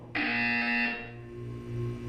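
A loud electronic buzzer sounds in the video game Portal 2: Community Edition, a sharp tonal blare lasting under a second before fading into a quieter humming background.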